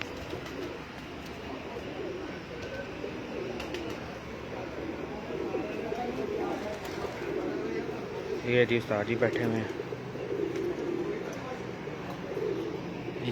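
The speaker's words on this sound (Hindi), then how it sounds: "ये हमारा प्यारा कबूतर है जी," Pigeons on a rooftop coo softly in the background while people talk in Hindi over steady outdoor noise.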